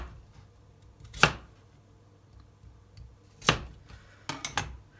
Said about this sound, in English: you want to make sure you've got a flat side and you want to cut them nice and thickly